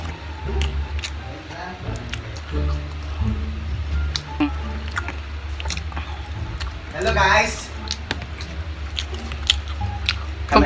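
Close, wet chewing and squishy bites while eating a beef burger mukbang-style, with people talking intermittently around the mouth sounds.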